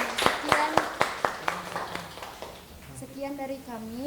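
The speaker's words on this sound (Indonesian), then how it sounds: "Tepuk tangan buat kelompok" A classroom audience applauds a student group after their presentation: sharp, rhythmic claps for about two seconds that fade out as a voice begins speaking.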